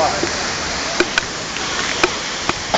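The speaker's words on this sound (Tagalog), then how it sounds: "This is the largest man-made waterfall." A steady broadband rush of water falling at Singapore's largest man-made waterfall, heard close and continuous, with a few faint clicks and brief bits of voice over it.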